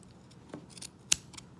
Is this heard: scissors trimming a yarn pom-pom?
yes